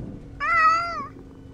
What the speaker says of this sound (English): I forgot to mention you got a ship's cat now and all by the sound of it